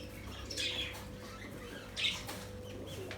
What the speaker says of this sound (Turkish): Karşıda kuşlarımız var.